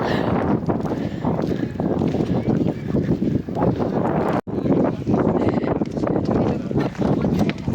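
Strong coastal wind at Durdle Door, UK, buffets the microphone in steady, loud gusts with a brief dropout midway, while a crowd murmurs faintly underneath.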